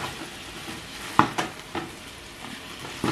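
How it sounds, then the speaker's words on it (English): Red meat browning in a hot pan for homemade chili, a steady faint sizzle with a few louder spits and scraping stir strokes, no talking. "first step is to brown your red meat."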